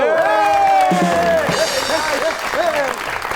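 A studio audience on a talk show applauds to welcome a guest. The clapping is steady and moderately loud, mixed with sustained musical tones.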